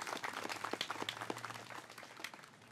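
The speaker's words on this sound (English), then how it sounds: "Let's have a round of applause." Scattered clapping from an audience at an outdoor firefighter memorial service, a brief round of light applause with uneven claps that tapers off toward the end.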